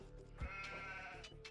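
Sheep bleat in a real-time strategy match during a scouting skirmish, with a couple of short bleats over steady game ambience and background sounds.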